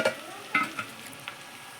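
Soya chunks (meal maker) curry stirred in oil in a pan, with a few distinct scrape-and-clack strokes of a spoon over a faint sizzle, close up and with no voices.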